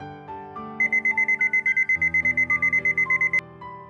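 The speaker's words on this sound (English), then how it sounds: "I wake up a few seconds before my alarm and stop it as soon as it rings." An alarm clock in a visual novel video game rings in a fast, steady series of loud electronic beeps for a few seconds over soft background music, then stops.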